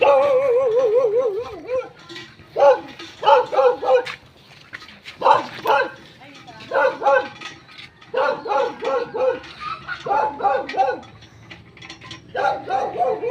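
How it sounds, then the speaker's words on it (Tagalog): A dog barks repeatedly in rapid clusters, loud and close, with short pauses between the bursts. "May aso."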